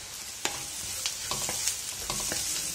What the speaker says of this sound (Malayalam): ഇതിലേക്ക് നമ്മൾ കുക്ക് ചെയ്ത് വെച്ചിരിക്കുന്ന ഗ്രീൻ പീസ് ചേർക്കുക.